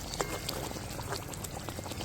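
Leftover oil is poured into a simmering hilsa fish gravy in a pan, making a soft, continuous liquid pour with bubbling. Brief faint clinks sound at a moderate level and no one speaks.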